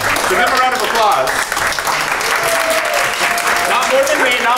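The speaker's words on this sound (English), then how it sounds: "So give him a round of applause." A theatre audience applauds a cast member with dense, steady clapping and cheering that holds loud throughout, with voices mixed into the crowd noise.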